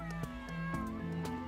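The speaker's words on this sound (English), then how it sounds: "Look, there's a cat over there. Meow." A cat meowing in the video game Dyscourse: a few short, close, clear meows in quick succession, with no talking.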